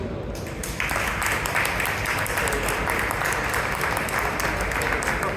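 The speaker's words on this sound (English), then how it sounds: "And big applause for them." An indoor audience at a Bitcoin meetup panel applauds, steady sustained clapping that swells after a brief quieter start and keeps going evenly to the end.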